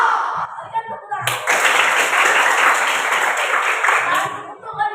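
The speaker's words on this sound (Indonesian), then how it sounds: "Berikan tepuk tangan." Classroom group giving a round of applause, quick dense clapping that starts sharply after brief talk, holds steady for a few seconds and then fades as voices return.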